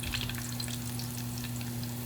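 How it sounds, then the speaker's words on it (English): Pork belly frying in a pan, giving a steady, dense sizzle with crackling pops that stays close and even throughout, with a low constant hum underneath. "You can hear it sizzling."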